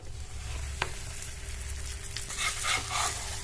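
A bitter gourd paratha is laid on an oiled tawa and sizzles steadily up close, with a brief clatter and a swelling hiss near the end.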